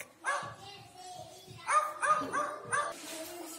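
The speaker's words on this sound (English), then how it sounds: "I am faithful. I bark." Several short, yappy dog barks in quick bursts, fairly close, with brief gaps between them.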